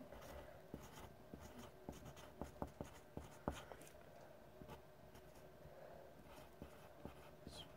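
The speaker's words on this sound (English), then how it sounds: "Let's write that down real quick." A pen scratches across paper as something is written down by hand, with soft rapid strokes and small taps, faint and close against a quiet room.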